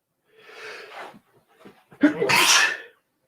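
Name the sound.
sneeze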